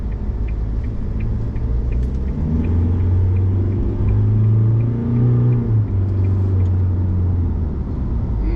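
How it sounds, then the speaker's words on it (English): A 2021 Isuzu D-Max on the road, heard from inside the cabin: a loud, steady engine rumble with rising and falling drone as it accelerates through the gears, plus a faint rhythmic ticking, with no one talking. "let's go for a little drive and see how the engine goes. Engine and gearbox."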